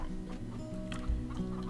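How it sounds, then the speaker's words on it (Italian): Chickens cluck and chatter in the farming video game Farm Together, a busy, close flurry of bird calls lasting under two seconds with no talking. "do da mangiare le galline"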